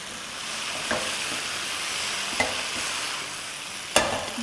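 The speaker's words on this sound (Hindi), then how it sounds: "अभी इसको हम इतना फ्राई करेंगे कि थोड़ा ड्राई टाइप का हो जाए" Okra (bhindi) fries in a pan for a spiced Indian dish, giving a steady, even sizzle and hiss close by, broken by three brief stirring scrapes.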